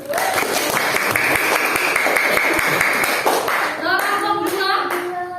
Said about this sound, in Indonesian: Kelompok 1 tepuk tangan dong untuk kelompoknya sendiri.